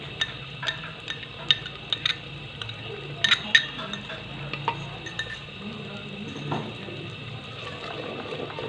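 Tomato paste masala being stir-fried for Madrasi chicken, a steady low sizzle with scattered light clinks and scrapes of a spoon against the pan, close and moderately quiet.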